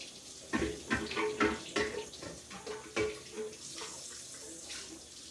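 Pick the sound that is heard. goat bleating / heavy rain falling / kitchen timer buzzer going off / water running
water running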